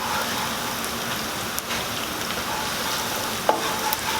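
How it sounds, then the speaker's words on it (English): Onions frying in a hot pan for Mexican rice, a loud, even crackling sizzle like rain on a surface, with a few light utensil taps, heard up close with no talk. "Now, add as many onions as you want."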